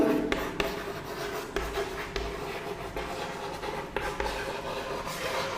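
Chalk or marker scratches across a classroom board in steady short strokes, a continuous close rubbing with rhythmic pauses as math notes are written.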